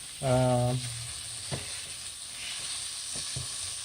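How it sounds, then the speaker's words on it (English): Garlic sautéing in a pan while lasagna is prepared: a steady close sizzle runs throughout, with a short tonal clink near the start and a few light stirring taps. "I just want to go ahead and saute that garlic"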